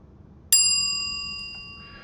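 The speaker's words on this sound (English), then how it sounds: "And that bell means subscribe." A single bright bell ding used as a subscribe sound effect, struck sharply and ringing out with a long, slowly fading metallic tone, alone and with no talking.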